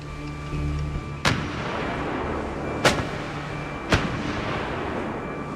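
Three heavy naval gun blasts from the Falklands War boom out at irregular intervals, each a sharp crack with a rolling tail over a steady low rumble of background noise.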